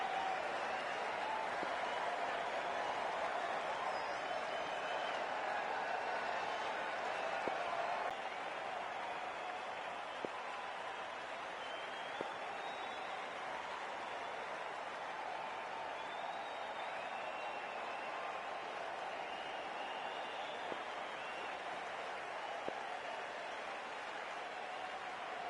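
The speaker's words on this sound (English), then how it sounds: "already the crowd is up and about" A stadium crowd in the cricket video game Cricket 24 roars in a steady, dense wash of cheering and applause that stays loud and even throughout, with no clear individual voices.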